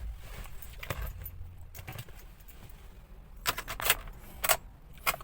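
Ignition key clicking and jingling in the lock of a Mitsubishi Montero, several close metallic clicks and rattles that bunch up toward the end, fairly quiet, with no engine audible yet.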